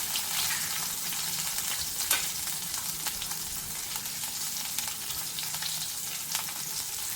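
Cloves and chopped green chillies frying in oil in a pan for a no-onion, no-garlic paneer curry, a steady close sizzle with crackling pops and occasional stirring, continuous throughout.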